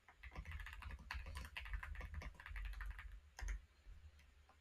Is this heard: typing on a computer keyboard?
yes